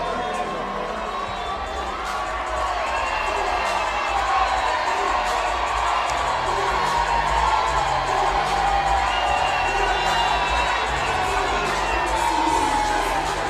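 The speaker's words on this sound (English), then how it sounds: "The crowd here will tell you everything you need to know." A packed boxing arena crowd at a women's bout with Claressa Shields cheers and shouts continuously, a dense loud roar that stays steady throughout.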